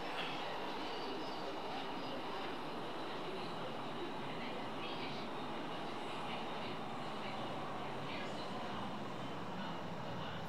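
An NYCT R142 subway train runs in the OpenBVE simulator game, a steady loud roar of wheels and motors on rails with faint higher squeals, continuous and close throughout.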